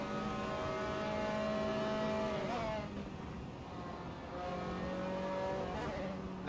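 Race cars lapping the Suzuka circuit, one car pulling out of the slipstream to pass, with steady loud engine tones that rise and fall in pitch as the cars close in and go by.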